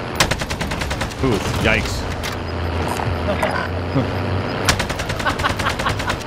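AK rifle gunfire in the game Warzone, rapid automatic bursts of sharp shots cracking in quick rhythmic runs, loud and close, with someone briefly talking over it.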